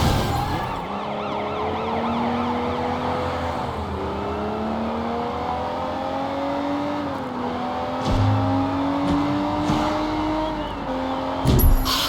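A car pulls away in the open-world action game Sleeping Dogs, its engine droning steadily with rising and falling pitch, joined by a wailing police siren and a few sharp bumps near the end.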